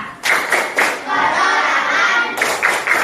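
A group claps the rhythmic Indonesian 'tepuk usaha' clap in a classroom setting, with sharp bursts of hand claps separated by a sustained stretch of continuous clapping, loud and close.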